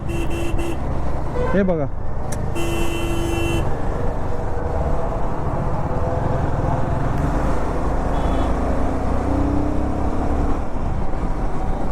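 Heavy, congested road traffic rumbles steadily around a motorcycle, with car horns tooting briefly near the start while someone talks over the noise.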